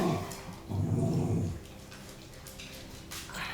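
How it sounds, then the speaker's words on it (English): Dogs growl and give short, muffled barks close by, with a burst of louder growling early on, then quieter scuffling. "That's my dogs."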